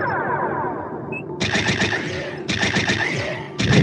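Ship weapons in the Star Trek Bridge Crew VR game fire in three rapid bursts of rattling shots with an echoing tail. The bursts follow a softer electronic hum and are loud and close.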